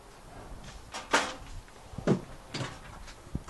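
A drawer in the outdoor kitchen of a 2017 Jayco Jay Flight 32BHDS camper is worked, giving a few close, soft knocks and sliding bumps spaced about a second apart.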